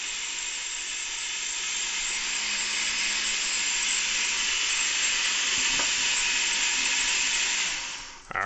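Blender running steadily on tomato soup, a loud continuous high whirring grind that holds for about eight seconds before cutting off abruptly, with no talking.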